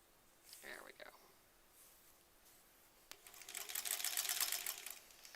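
Sewing machine stitching dark blue strips for a granny squares quilt border, a dense fast needle patter that swells loud near the end after quieter handling sounds.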